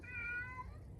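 A cat gives a single clear meow, close by, drawn out and tonal, over a low rumbling background with no talking.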